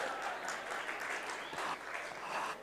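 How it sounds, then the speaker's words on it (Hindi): A seated audience at a spiritual talk in Mount Abu claps together, a dense, steady burst of applause at moderate distance lasting a few seconds with no voices over it. "आप ऐसे ताली बजाते हैं ना"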